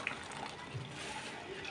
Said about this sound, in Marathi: आपण आता याच्यात थोडं गरम पाणी सोडू।